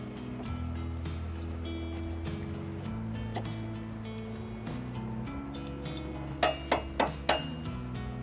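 Several quick, sharp taps from a rubber mallet seating trailer hitch spacers on a 2022-2026 Honda CR-V, a short cluster of close knocks near the end over a steady background hum.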